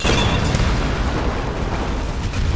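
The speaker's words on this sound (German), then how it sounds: "Und Explosion." An explosion in the Tomb Raider video game booms as a loud, dense rumble that fills the whole clip with deep, broadband roaring and no speech over it.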